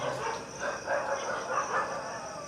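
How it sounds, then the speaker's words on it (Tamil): Several dogs bark and yip at once from different directions at night, a steady, moderately distant chorus of overlapping barks with no talk over it. "சுற்றி இருக்கிற எல்லா நாயும் கத்துது"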